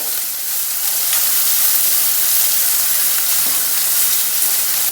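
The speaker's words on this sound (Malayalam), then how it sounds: "ഉള്ളിയും പച്ചമുളകും കൂടെ ഇട്ടിട്ട് നന്നായിട്ട് വഴറ്റുക" Onions and green chillies sauté in a hot pan, giving a loud, steady, close sizzling hiss that carries on without a break.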